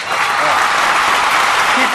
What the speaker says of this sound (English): Give them a nice round of applause for the Rockets